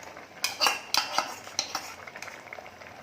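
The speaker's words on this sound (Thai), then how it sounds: "คนนิดหน่อยจ้ะเดี๋ยวมันจะเละ" A spoon stirring clear pork soup with green onion and coriander in a pot, giving a few soft, close clinks and scrapes against the metal that fade over a few seconds.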